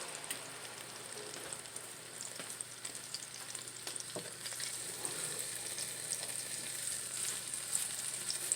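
Linguine sauce of spinach and sun-dried tomato cream cooking in a pan, giving a steady close crackling sizzle with scattered sharper pops and stirring clinks, no voices.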